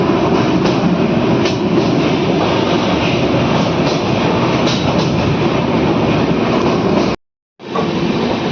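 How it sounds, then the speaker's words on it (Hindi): Lucknow Chhapra Express (15054) passenger train rolling along the line near Majhi railway station, a steady loud rumble of wheels and carriages with faint clickety-clack, briefly cut out near the end before resuming. "अपनी ट्रेन जो है वो लूप हो रही है माझी रेलवे स्टेशन पे।"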